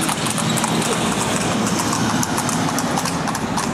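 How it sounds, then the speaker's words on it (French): Horses pass close by on a street in Marrakech, hooves clopping in a steady patter over dense, loud background noise, with no talk. "il y a des chevaux qui vont passer à côté de moi"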